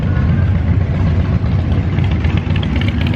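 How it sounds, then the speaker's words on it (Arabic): An old Yamaha motorcycle engine runs loud and close at a steady, rough idle, a throbbing low rumble that holds without a break through the short stretch at a bike week rally. "دباب ياماها قديم جدا"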